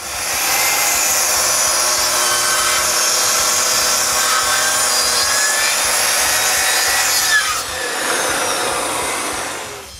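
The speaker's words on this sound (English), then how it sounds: "Then it's time to cut the base of the dovetail." Hand saw cutting the sides of a wooden dovetail joint for a shop roof truss, with steady rapid back-and-forth rasping strokes, loud and close, pausing briefly near the end before resuming.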